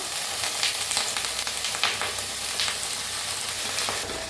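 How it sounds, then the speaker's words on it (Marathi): Brinjal sautéing in oil in a pan for a potato and brinjal curry, a steady close sizzle with occasional light clicks of stirring throughout, no voices. "त्यातच वांगी बी परतून घेऊया आपण"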